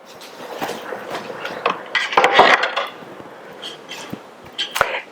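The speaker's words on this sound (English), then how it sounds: "let me get my cutting board" A wooden cutting board is pulled out and set down in a home kitchen, making a run of clattering knocks and light clinks with a louder cluster of hard taps in the middle.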